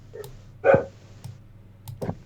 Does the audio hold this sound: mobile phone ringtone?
no